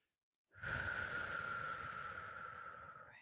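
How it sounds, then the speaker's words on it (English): A deep, slow breath drawn in calmly during a guided meditation, a steady airy rush that starts abruptly after near silence and holds for nearly three seconds, close and clear with no talking. "And then take a nice deep breath"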